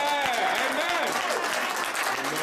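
A church congregation claps and cheers in praise of the Lord, a dense, steady wave of applause with crowd voices mixed in, loud and continuous throughout.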